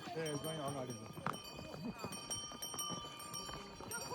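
Horse hooves clop along at a slow walking pace on the way to Muktinath, Nepal, while people talk nearby over outdoor background noise.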